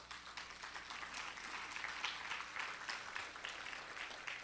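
An audience at a conference luncheon applauds a keynote speaker, a steady wash of many hands clapping at even volume for several seconds with no talk over it.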